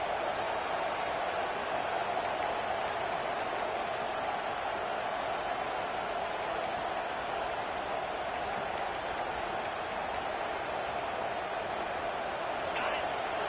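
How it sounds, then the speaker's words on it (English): A huge American football stadium crowd roars continuously during a defensive stand, a dense, steady wall of noise with occasional whistles cutting through, heard from within the stands. "Listen to this crowd just shaking the girders of this place, trying to help their defense."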